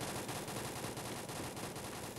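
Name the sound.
gunfire in video game Free Fire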